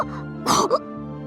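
Okita from the video game Fate/Grand Order gives a short, sharp cough, a single close burst with a quick second catch, over a quiet backing hum.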